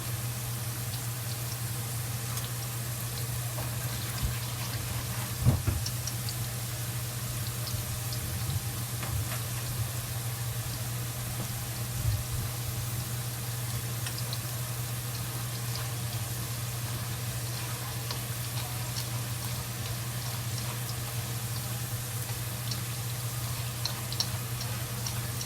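Green beans deep-frying in hot oil, a steady faint sizzle with fine crackling ticks and occasional small pops, continuous and unbroken, with no talking.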